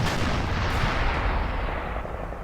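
17-pounder anti-tank gun firing in the Normandy 1944 war game Combat Mission Normandy: one heavy, loud boom with a long rumbling decay that fades over a couple of seconds.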